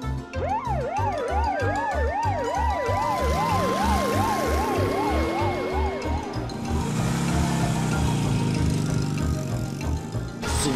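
Cartoon police cars chase a motorcycle, sirens wailing in fast looping whoops over a driving rhythmic beat, then a sweeping engine-like rush takes over in the second half before the sirens fade.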